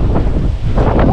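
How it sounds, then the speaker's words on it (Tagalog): Strong wind buffets the microphone in heavy low gusts, roaring and surging throughout with no voices. "Lakas ng hangin."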